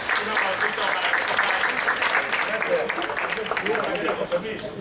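Audience at a clandestine tribute event in Madrid breaking into sustained applause, a dense crowd of clapping hands that stays steady for several seconds.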